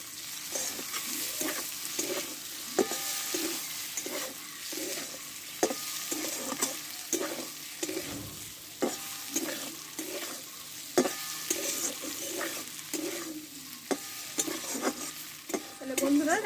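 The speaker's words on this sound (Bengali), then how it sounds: "ভালো করে নাড়াচাড়া করে নেব" Snake gourd curry with poppy seeds and fried spices being stir-fried in a pan, with steady sizzling and repeated rhythmic scrapes and knocks of the spatula against the pan, close and moderately loud, with no talking.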